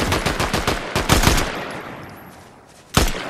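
Rapid automatic gunfire in the video game Fortnite crackles in a dense, loud burst. It then trails off into fading echo before one more sharp shot rings out, with no talk over it.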